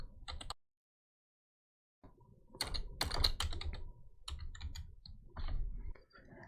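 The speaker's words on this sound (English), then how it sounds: "open your Start and start typing restore" Rapid typing on a computer keyboard, a short burst of clicks, a pause, then steady bursts of key presses close by.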